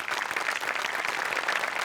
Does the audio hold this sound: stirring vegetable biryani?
no